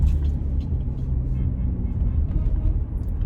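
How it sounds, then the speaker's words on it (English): Road traffic heard from inside a car: a constant low engine and road rumble with passing vehicles, fairly loud and steady, with faint voices in the background. "Oh, this traffic is crazy out here."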